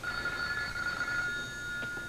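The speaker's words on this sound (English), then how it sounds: "Can I answer that phone call, please?" An old-fashioned telephone bell rings continuously in an indoor scene from a 1986 soap opera, a bright steady electric ring held for the whole stretch with low room rumble beneath and no talking.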